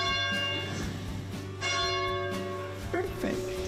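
A church bell rung at the Church of the Wayfarer in Carmel, California, giving several loud, ringing strikes close by whose tones linger and overlap, with a person talking briefly in between.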